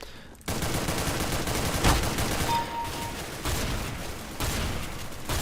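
Gunfire in CS:GO, a sustained barrage of rapid shots with brief pauses between bursts, loud and close with no talking.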